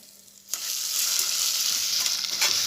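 Vermicelli frying in oil for Egyptian koshari: a loud, steady hiss of sizzling oil bursts in sharply and then holds continuously, close and alone, with no voices.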